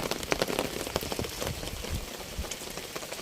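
Steady rain patters on a surface, a dense spatter of drops with occasional louder splashes, continuous throughout.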